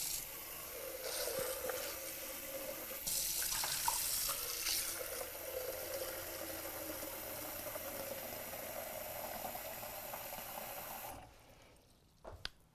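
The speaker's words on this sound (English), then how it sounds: "take that to the sink first thing and just get some water in there and rinse it out" Tap water runs into a Gaggia Cadorna espresso machine reservoir at a kitchen sink faucet as it is rinsed out, a steady close splashing rush that shifts in tone as the container fills, then cuts off near the end.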